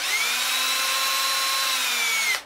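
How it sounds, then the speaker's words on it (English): A power drill drilling wood whines steadily at high speed for about two seconds, then cuts off abruptly. "Now when I'm drilling this, you don't want to drill wide open. You want to drill slow."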